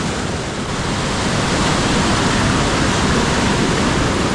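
A river rushes through dense jungle near Borong in Sikkim, a loud, steady roar of flowing water that holds constant throughout with no voices.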